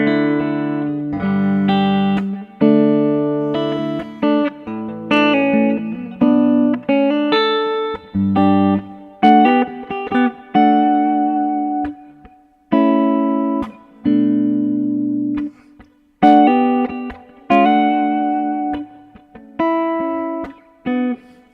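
An electric guitar plays ringing open chords and picked notes with a spacious reverb tail, each strum decaying into short pauses, loud and close.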